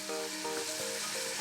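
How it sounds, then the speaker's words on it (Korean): Meat stir-fries in a pan in a home kitchen, a steady close sizzle with faint clinks of the utensil moving the food. "고기 볶는 손이 분주한데요"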